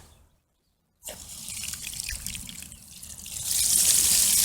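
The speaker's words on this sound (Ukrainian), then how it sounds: "Вода тече." Water runs from an outdoor tap newly fitted with a homemade handle, starting abruptly after a second of silence as a close, steady trickle that grows stronger and splashier toward the end.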